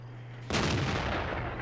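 A tank gun fires once in World of Tanks from a tank destroyer, a sudden loud boom breaking over a low engine hum and then rolling off into a long rumbling decay.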